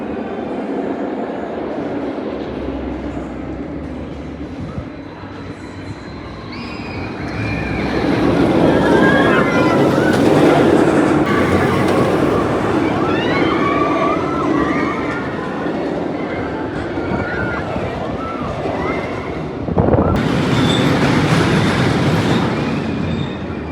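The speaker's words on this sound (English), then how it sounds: "our fourth roller coaster of the day is going to be West Coast Racers here, which is a dueling coaster built by Premier Rides in 2020" A Premier Rides dueling roller coaster, West Coast Racers, rattles and roars along its track with squealing wheels and whooshing swells, loud and close, with riders' voices and screams mixed in.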